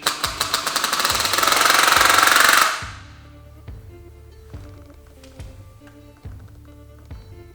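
Hammer drill boring into concrete for a Tapcon screw, a loud rapid hammering chatter for a few seconds that stops abruptly, followed by a quieter rhythmic mechanical ticking.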